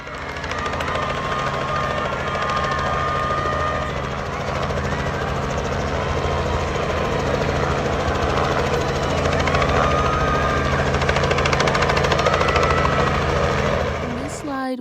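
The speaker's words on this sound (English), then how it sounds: "a helicopter can be seen participating in a gender reveal as it releases dust onto a field" A helicopter hovers over a field at a gender reveal, releasing dust, its engine and rotors producing a loud, continuous throbbing drone that holds steady throughout.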